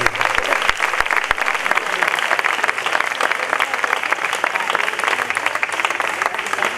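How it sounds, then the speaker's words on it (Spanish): Loud, dense applause from a crowd at the final of a contest in Sanlúcar's Bajo de Guía, continuous and energetic throughout with no pause. "me gustaría brindarle un aplauso a nuestros amigos de Canal Sevilla Radio."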